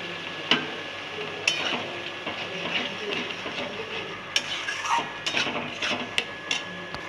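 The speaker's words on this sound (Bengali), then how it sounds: "তো এই মশলাটাও কষানো প্রায় রেডি, তেল ছাড়তে শুরু করে দিয়েছে।" Spice and ginger paste fries with browned onions in oil that is starting to separate, giving a continuous close sizzle under repeated scraping and stirring clinks against the pan.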